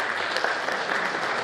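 Steady applause from a crowd at a Third Way party convention in Płock, Poland, sustained and dense throughout, with no voices rising above it.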